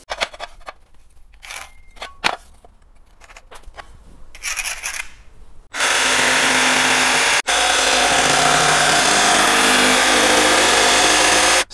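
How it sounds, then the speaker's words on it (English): A jigsaw cuts through laminate flooring boards in a loud, steady buzzing run lasting about six seconds, with a brief break midway, after some quieter handling noises. "cut them out with the jigsaw"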